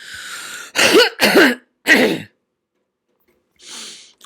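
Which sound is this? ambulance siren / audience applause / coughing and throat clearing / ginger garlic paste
coughing and throat clearing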